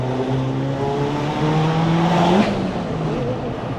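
A fully built 3SGTE-swapped Toyota RAV4 making about 550 hp on 26 psi of boost accelerates hard, its engine droning loud and steady with rising tone throughout, heard close from inside the car.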